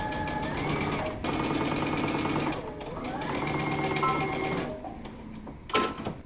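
A home sewing machine stitches a dress side seam with a 5/8 inch seam allowance, a rapid mechanical whirring hum in short bursts with brief pauses for pivoting, while someone talks over it.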